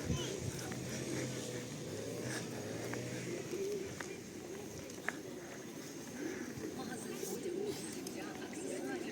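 Pigeons coo softly in low, repeated burbles nearby in Truskavets town centre, mixed with outdoor bustle, footsteps and people talking in the background.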